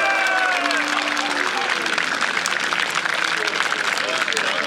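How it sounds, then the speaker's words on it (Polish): Loud, sustained applause and cheering from a crowd at an airsoft festival awards announcement, dense clapping throughout with a few whistle-like tones early on. "Wielkie brawa"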